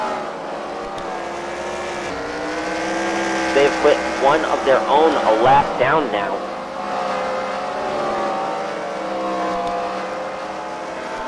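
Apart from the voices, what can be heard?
race cars racing around the track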